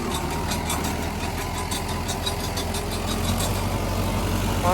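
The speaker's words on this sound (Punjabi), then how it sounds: "585 ਟਰੈਕਟਰ ਆ ਜੀ ਇਹ 3 ਸਪੀਡ ਚ ਆਉਂਦਾ ਟਰੈਕਟਰ ਜੀ" A 3-speed 585 tractor engine runs steadily and loudly throughout, driving a rotavator, a continuous low rumble with rhythmic mechanical knocking and no talking.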